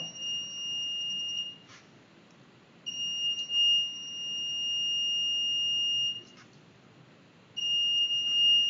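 A high, steady electronic buzzer tone from a Raspberry Pi 4 gas sensor circuit sounds in three long stretches, cutting off and restarting between them.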